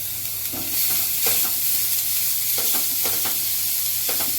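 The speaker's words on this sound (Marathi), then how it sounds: "छान आपण सगळं फास्ट गॅसवरतीच परततोय." Chopped onion, grated cabbage and grated carrot sauté on high heat for veg momo filling, a loud steady sizzle broken by repeated spatula scrapes and stirring knocks.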